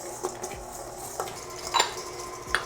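A spoon stirs sugar into vegan butter in a bowl for chocolate chip cookie dough, making soft scraping swishes punctuated by a few light clinks against the bowl, close and alone without talk.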